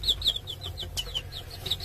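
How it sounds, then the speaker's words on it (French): Sussex laying-hen chicks about ten days old peep close by in quick, high, repeated chirps, a thin rhythmic chorus over a faint low background. "Voilà quelques petits gènes de poules pondeuses Sussex qui sont nés depuis une dizaine de jours."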